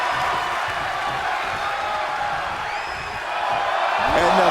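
A wrestling arena crowd roars and cheers in a steady, loud wash of noise that swells near the end, with a commentator talking over it throughout.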